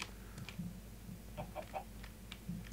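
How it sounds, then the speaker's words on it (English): Minecraft chicken clucking on a farm, several short soft clucks spread across a few seconds, fairly quiet and alone. "Oh, hi, chicken!"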